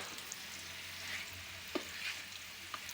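Koi fish and pumpkin curry being stirred in a pan, a faint soft sizzle with a couple of light spoon clinks against the metal, quiet and unaccompanied by talk.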